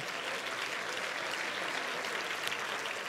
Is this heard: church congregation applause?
yes